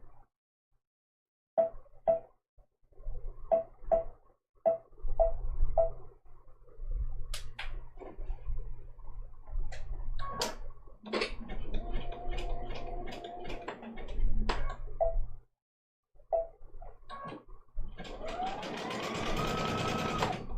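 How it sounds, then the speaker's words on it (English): Sewing machine running a zigzag stitch on a small ladybug appliqué quilt block, with short bursts of rapid mechanical stitching, pauses, clicks and knob adjustments, close and clear with no talk. "I'm just going to switch over to a zigzag stitch because it's a little bit quicker and we have 6 dots to sew down"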